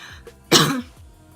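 A single short, harsh cough with a little throat-clearing rasp, close and fairly loud.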